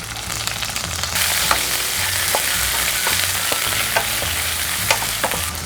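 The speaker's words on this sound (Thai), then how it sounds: "ผัดกระเทียมให้หอมก่อนนะคะใส่หอมใหญ่ลงไปนะคะ" Garlic and onion stir-fry in hot oil in a wok, a dense, loud sizzle that swells after the first second, with rhythmic scraping strokes of a spatula and occasional clinks, close up with no voices.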